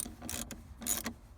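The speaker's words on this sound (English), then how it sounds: "We're gonna use the 10mm, and we're gonna tighten that down." A socket wrench with a 10mm socket tightens the positive battery terminal on a BMW E70 X5, giving two short bursts of quiet, close ratcheting clicks separated by a pause.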